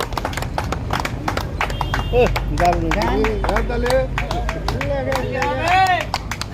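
A crowd claps in quick rhythmic bursts at a street performance in Sreepur, Dhaka, the claps coming close and fairly loud while someone talks loudly over them throughout.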